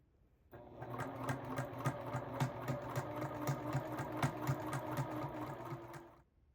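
A domestic sewing machine stitches pieced quilt squares for a nine-patch throw, running steadily for about six seconds with a rhythmic mechanical whir and regular needle clicks, close and clear, with no talking.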